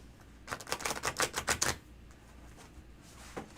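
Tarot cards are shuffled in a quick run of crisp riffling snaps, fairly close and moderately loud, lasting about a second before fading into quiet room tone.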